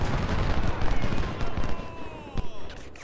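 Union infantry fire a rifle volley in Ultimate General: Civil War at the Battle of Cold Harbor. The gunfire is a dense, crackling burst of overlapping shots that stays loud throughout, with scattered sharper reports.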